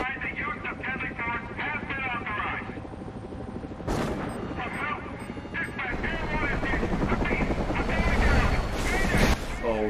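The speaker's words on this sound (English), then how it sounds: "I think this is the Deadshot thing because I think this is the helicopter" Helicopter in the video game Batman Arkham Origins, a chopping rotor throb running beneath game sounds and bursts of gunfire, with people talking over it.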